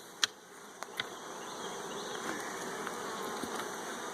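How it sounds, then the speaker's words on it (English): Soft, steady buzzing of bees close by, with a few faint clicks and taps over the low drone. "Now the bees, well, let me shake all these bees off."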